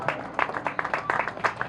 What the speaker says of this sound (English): So a big round of applause for our town clerk.